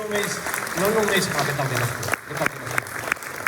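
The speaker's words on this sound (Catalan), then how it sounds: "Fort aplaudiment pel Salva" Applause from a crowd at a final municipal election campaign rally in Sant Climent, a steady wash of clapping running under a voice, with a few sharper claps near the end.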